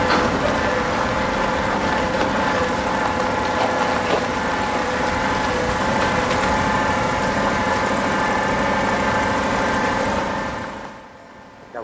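A truck towing a tandem dump trailer rolls over a rough road, producing a steady loud mechanical rumble with rattling and clanking throughout, which fades down near the end; no talk is heard.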